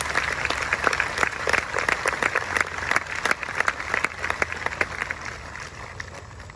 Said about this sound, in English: Please join me in a round of applause to thank all those who supported the 21st annual Class Ring Memorial event this year.